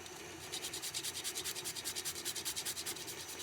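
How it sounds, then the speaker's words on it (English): Whole nutmeg is rasped on a grater in quick, even back-and-forth strokes, a soft, close scratching rhythm repeating for a few seconds with no talking. "I'm going to grate in some nutmeg."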